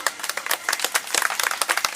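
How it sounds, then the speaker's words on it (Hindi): An audience at a speech event breaks into brisk applause, many hands clapping in a dense, uneven patter with sharp individual claps standing out. "जोर से बजाइए तालियां"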